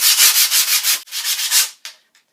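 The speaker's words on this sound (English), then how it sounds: "you're going to take the corners and you're going to scrape along, and that's going to kind of blend the wood and the grip tape together" Skateboard grip tape edges being scraped along the wooden deck to blend them, a close series of rapid rasping strokes that stop and start, ending with one short scrape and a faint tap, with no talk.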